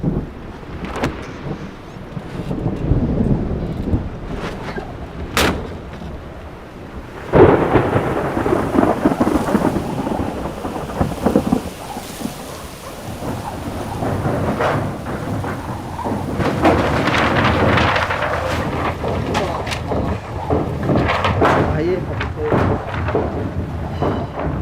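Thunderstorm with strong wind, the gusts buffeting the microphone, rumbling thunder claps breaking out repeatedly over a steady roar of rain, loud and continuous throughout with no voices.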